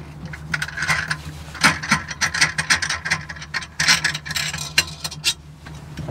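A hand tool clicks and ratchets repeatedly while working to remove the wheel on a boat with a Volvo Penta engine, producing close, irregular metallic clicking bursts over a faint low hum.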